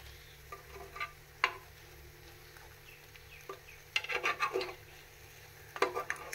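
Gram flour mixture cooking over low heat in a pan, soft scattered sizzling with a few clicks and scrapes of stirring, quiet and close, no talk.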